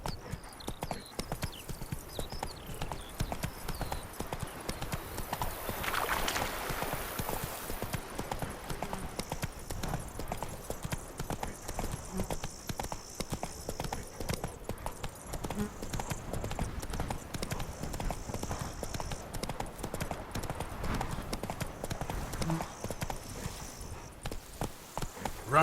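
Roach the horse gallops in The Witcher 3, a rapid, continuous hoofbeat rhythm running for the full length over faint ambient game sound.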